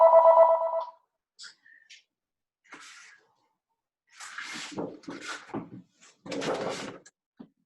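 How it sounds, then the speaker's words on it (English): A telephone rings once with a brief electronic tone, loud and clear, then gives way to quiet with scattered small handling noises nearby. "Good time for the phone to ring."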